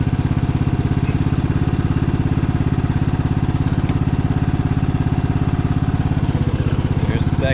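Riding lawn mower, left abandoned for years and now being fixed up, running steadily in first gear with a dense, continuous mid-low engine drone and a faint clatter, loud and close throughout.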